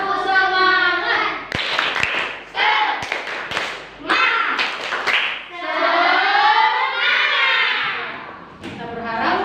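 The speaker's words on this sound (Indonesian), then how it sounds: "Kita tepuk semangat dulu. Tepuk semangat." A classroom of pupils performs a rhythmic spirit clap, chanting loudly in unison between sharp bursts of hand claps and thumps, with the patterned chant and clapping alternating throughout.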